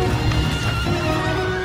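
A horse sets off at a gallop, loud hoofbeats mixed with a whinny and a dense rumble, continuous and close throughout.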